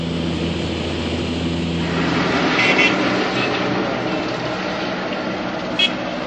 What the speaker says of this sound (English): Tibetan Karmapa was airlifted through Nepal in January aboard this helicopter